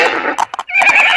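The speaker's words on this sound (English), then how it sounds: "HORSE, horse. Horse means घोड़ा." A horse neighs loudly and close up in a short, shrill whinny that breaks into quick fluttering pulses before rising again.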